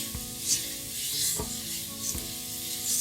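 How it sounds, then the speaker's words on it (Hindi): Vegetables for dalia roasting in a pan, with a steady sizzle and repeated scraping, rubbing strokes of a spoon at regular intervals, close by and without talk. "इन्हें भी हम बढ़िया सा जो है भून लेंगे।"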